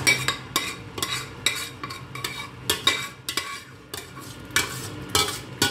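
Pistachio and chicken sauce stirred in a cooking pot, a spoon scraping and clinking against the sides in irregular strokes roughly every half second, close and clear with no talking.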